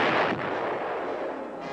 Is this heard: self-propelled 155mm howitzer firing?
yes